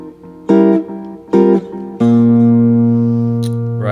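A jazz band plays a Basie-style ending: two short, punchy ensemble stabs followed by a sustained final chord that rings out and slowly fades. The phrase is clear and close, with no talking.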